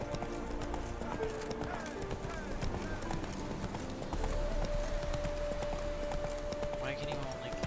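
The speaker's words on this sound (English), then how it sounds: "Why can you only canter?" Horse hooves clip-clopping at a canter in The Witcher 3, a steady rhythmic patter carried along under game music and a sustained tone, with a person talking over it.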